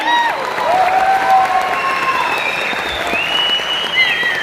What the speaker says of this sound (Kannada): ಒಂದು ಜೋರು ಚಪ್ಪಾಳೆ ಕೊಡಿ.